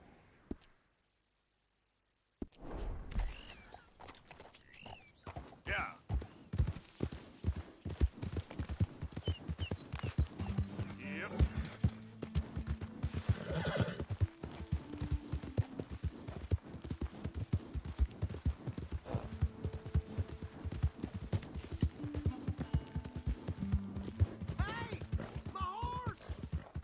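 Horse hooves clip-clopping in a PS4 video game, a continuous busy patter of steps with game music and effects, with voices talking over it at times.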